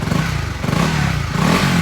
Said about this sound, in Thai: ถ้าผมเร่งเครื่องอ่ะ